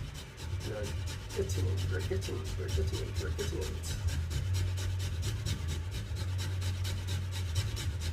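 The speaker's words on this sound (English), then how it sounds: "We're grating our potato." A sweet potato is grated by hand, giving a steady run of close, rhythmic rasping strokes with a brief spoken remark near the start.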